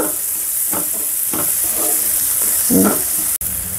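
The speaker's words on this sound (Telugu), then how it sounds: "కలుపుకొని మీడియం టు హై ఫ్లేమ్లో వేపుకోవాలి" Salted onions fry on a medium-high flame for a tomato bath upma, giving a continuous hissing sizzle with several soft stirring scrapes and a sharp click near the end.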